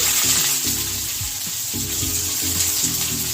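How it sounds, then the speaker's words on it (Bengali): Medium-sized onions dropped into hot oil fry with a bright, continuous hiss, joined by a few low bubbling and clunking sounds underneath, close and fairly loud with no one speaking. "তেল গরম হয়ে গেছে, পেঁয়াজটা আগে দিয়ে দিচ্ছি।"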